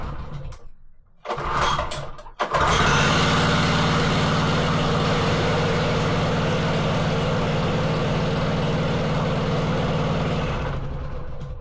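Wacker Neuson VP1030 plate compactor engine cranks in two brief pulls, then catches with the choke on and runs loud and steady at a rough, buzzing idle for about nine seconds before tapering slightly.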